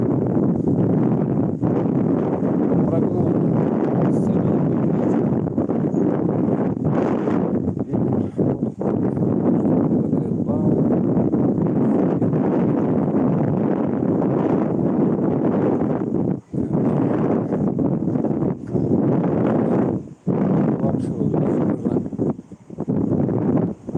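Strong wind at Primorsky Park in Yalta buffets the microphone in a loud continuous roar with rumbling gusts and brief dips, and no voices are heard.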